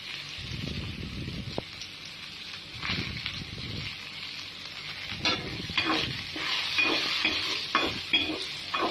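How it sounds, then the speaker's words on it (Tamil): Onions with a little salt fry in a pan, heard as a soft, low sizzle broken by repeated bursts of spatula stirring and scraping that grow busier toward the end. "இப்போது வெங்காயம் போட்டு நல்லா ஃப்ரை பண்ணிக்கிறோம்."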